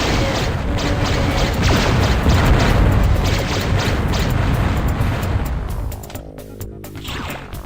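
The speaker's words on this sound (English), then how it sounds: "Some shooting." Gunfire and explosions in the video game Descent form a dense, loud roar of blasts and booms that fades into lighter mechanical clatter near the end.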